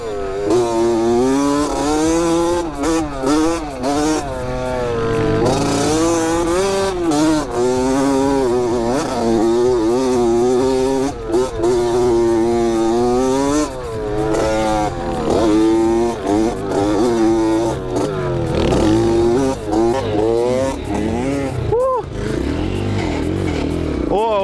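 Honda CR 80 or Lifan 200 motorcycle ridden off-road, its engine loud and close throughout, the revs rising and falling constantly with a rough, buzzing note and some clatter.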